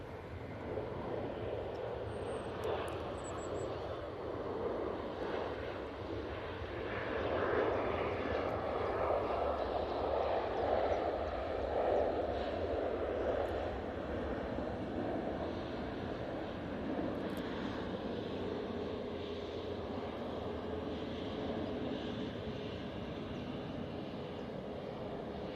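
A Ryanair airliner bound for Milan takes off at Manchester Airport, a steady distant jet roar that swells slightly midway, with wind buffeting the microphone and no clear speech.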